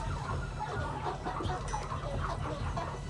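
Chickens clucking on a Cameroonian poultry farm, a dense, continuous murmur of many birds with scattered clucks over steady background noise, moderately loud and without speech.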